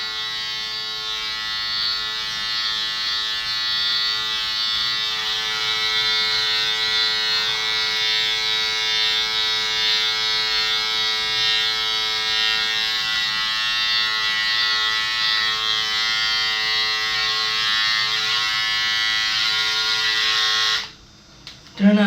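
An electric shaver trimming armpit hair buzzes loudly and steadily up close for about twenty seconds, then cuts off abruptly near the end.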